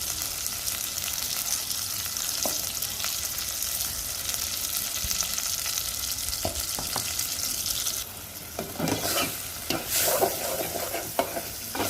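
A large tomato with salt and turmeric is stirred and fried in a pan, with a steady close sizzle throughout and louder scraping stirs and clatter in the last few seconds.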